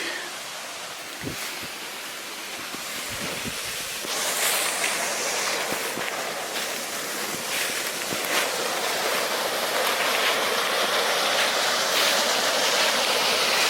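Creek water flowing steadily in an autumn forest along an old railway line, a broad continuous rushing that grows louder as the stream is approached, with a few footstep-like knocks early on.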